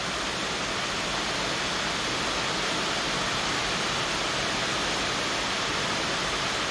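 Water is sprayed steadily onto a motorcycle's domino handlebar switch with hazard and passing-light buttons, producing a continuous, even hiss from start to finish with no pauses.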